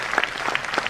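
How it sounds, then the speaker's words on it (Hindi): An audience applauding at a Modicare business event, with a brief burst of dense, steady clapping heard from nearby. "एक बार जोरदार तालियां इस इवेंट के लिए"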